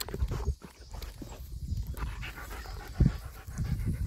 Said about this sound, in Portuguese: minhas cachorras balançando minha mão